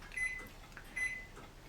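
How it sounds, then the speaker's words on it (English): A microwave oven beeps twice, short faint tones about a second apart, heard at a distance over quiet room ambience. "Oh, that beeping, that's my microwave."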